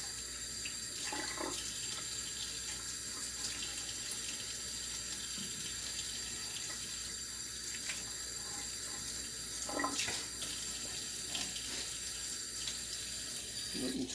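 Tap water runs steadily into a sink as a gritty coconut is rinsed clean, a continuous close hiss with occasional splashes and knocks as the nut is turned under the stream.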